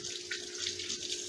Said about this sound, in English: Let me rinse my hands because my garlic is sticking too